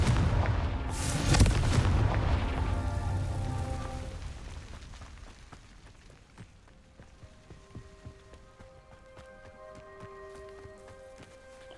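Confringo fire spell explosions in the video game Hogwarts Legacy: a loud, booming blast up front with crackling debris, decaying over several seconds into scattered pops and ringing tonal game effects, with no talking.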